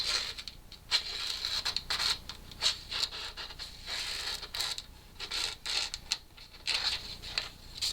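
Factory-edged carbide knife drags through paper, giving a faint, uneven series of scratchy rasping strokes that catch rather than glide, close by and quiet.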